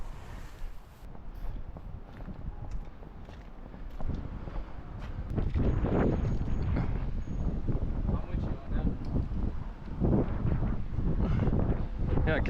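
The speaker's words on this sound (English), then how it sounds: "it's too windy anyway" Strong gusty wind rumbles beneath an iconic bridge in Omaha, a steady low roar that swells louder partway through.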